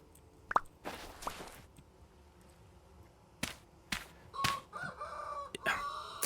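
A rooster crows at morning in the survival video game Vintage Story, a short crowing call among scattered clucks and sharp in-game thumps and clicks, moderately close with no speech.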